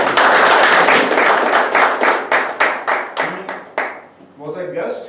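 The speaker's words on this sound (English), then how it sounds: "timer Toastmaster Dinesh needs a big round of applause" Loud, close applause at a Toastmasters meeting, dense clapping that thins into scattered individual claps before dying out, and a voice starts speaking at the end.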